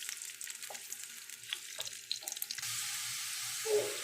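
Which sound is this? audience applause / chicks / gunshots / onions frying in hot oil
onions frying in hot oil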